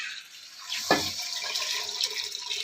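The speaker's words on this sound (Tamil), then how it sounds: "இப்போ நம்மளுக்கு எவ்வளோ குழம்புக்கு தேவையோ இந்த தண்ணியை ஊற்றிக்கிடுவோம்" Mutton stock water poured into a pot of village-style mutton kulambu, a short splashing gush near the start followed by faint trickling and liquid movement.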